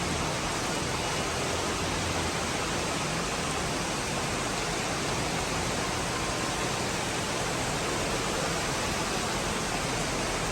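Heavy rain pours down in a constant, dense hiss that stays even throughout, with no talking.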